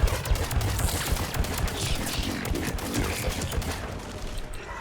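Rapid, dense gunfire from a Mass Effect 3 firefight on Insanity difficulty, a near-continuous volley of shots filling the whole stretch at steady loudness.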